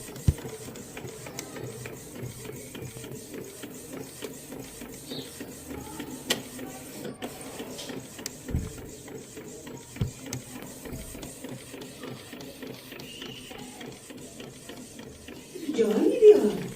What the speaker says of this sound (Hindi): ये आपका फ़ोटो प्रिंट हो रहा